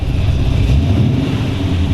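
Supercharged 265 cubic inch flathead in a 1932 Ford Hi-Boy roadster running steadily, a loud, dense low engine drone with wind rumble on the microphone and no clear rev rise.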